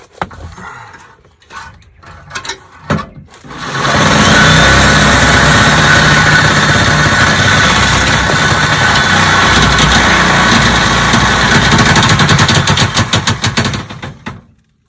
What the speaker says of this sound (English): Use the sawzall, press it all the way up against the thing you're cutting